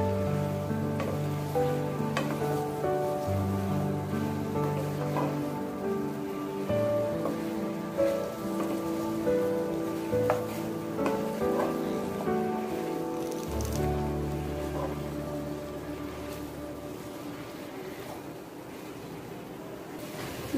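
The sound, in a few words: taro leaves being stirred and cooked in a pan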